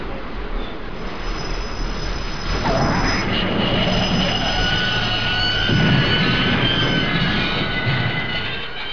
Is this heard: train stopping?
yes